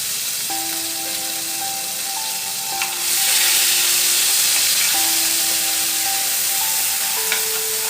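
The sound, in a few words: frying onion paste in a pan for fish curry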